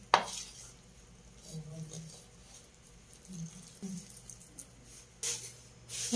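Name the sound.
stirring chicken longganisa mixture with flour in a bowl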